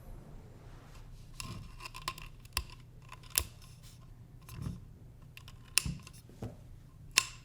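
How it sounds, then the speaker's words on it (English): A snap ring is fitted onto the center post of a carbon Innegra tripod, producing quiet, close metallic clicks and small scrapes scattered over several seconds with no voices. "put your snap ring on the bottom"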